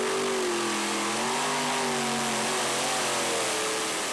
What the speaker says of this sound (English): you can hear those motors get pulled down